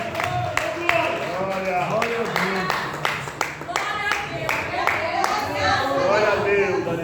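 A Pentecostal church congregation claps in steady rhythmic beats during worship, with a voice preaching loudly over the clapping throughout.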